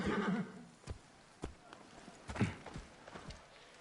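Horses from Assassin's Creed Origins, ancient Egypt near a palace: scattered hoof clops and snorting bursts at close range, a whinny-like rise near the start, over a low game ambience with no talk.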